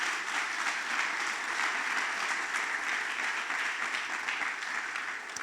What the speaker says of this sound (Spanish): ¿Le das un aplauso al Señor por eso?